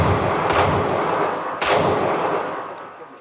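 Shots from a SIG P226 X-Legion SAO pistol at a shooting range boom loud and close, with two heavy reports about a second and a half apart, each followed by a long, noisy echo that slowly fades.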